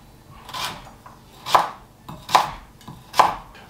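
A knife dicing swede on a chopping board for a pastry filling, giving four sharp, evenly spaced chops with short pauses between them, close and clear with no talk.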